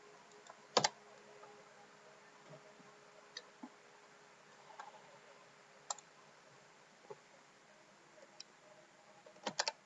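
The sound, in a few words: typing JavaScript code on a computer keyboard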